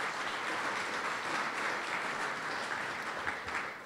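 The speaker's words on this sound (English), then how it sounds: "let's also give a round of applause" Steady applause from a crowd, many hands clapping at once in a continuous wash that holds throughout without a break.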